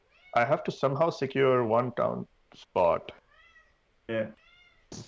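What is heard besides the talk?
Siamese cat meowing in the background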